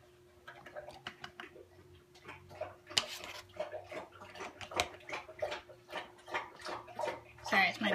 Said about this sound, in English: it's my dog drinking water